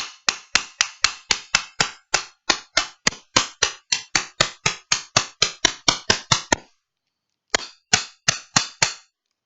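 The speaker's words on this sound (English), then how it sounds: "I'm going to use the rubber handle of this screwdriver and just kind of tap it" Rubber screwdriver handle tapping the frame of a Colt Official Police revolver: a rapid, even run of about thirty sharp, close knocks, a brief pause, then four more taps.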